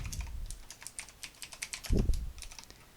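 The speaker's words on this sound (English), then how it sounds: "So let's type public bool" Quick, irregular keystrokes on a computer keyboard as code is typed for a Unity game input script, close and fairly quiet, with one heavier thump near the end.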